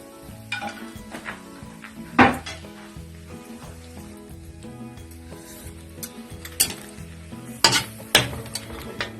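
Long chili and bell pepper stirred into paklay in a pan, with soft sizzling under scattered scrapes and clinks of a utensil against the pan, a few sharper knocks standing out.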